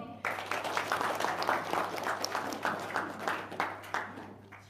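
Audience applause at a motivational talk, a dense burst of clapping with distinct individual claps standing out, steady for several seconds under a low background hum.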